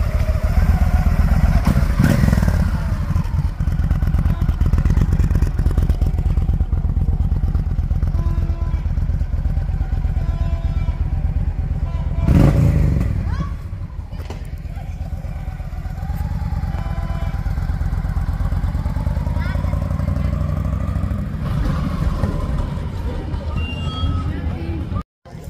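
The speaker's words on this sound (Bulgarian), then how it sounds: "Сега ще започва шоу с мотори в центъра на село Тилово." Motorcycles ride past and rev at a village moto rally and show in Bulgaria, loud and close for the whole stretch, with engine roars swelling and easing and a brief drop in level midway.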